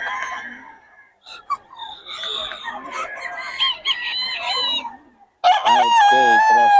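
Gamefowl roosters crow loudly and close, long wavering calls with throaty clucking between, ending in a strong full crow.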